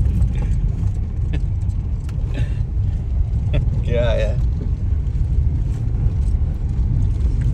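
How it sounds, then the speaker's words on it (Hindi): A car rolls along a road on the way to Kathmandu, Nepal, coasting with no gear engaged, its steady low road and engine rumble running throughout beneath laughing and chatting voices inside the vehicle. "चलती जा रही है पूरी की पूरी गाड़ी"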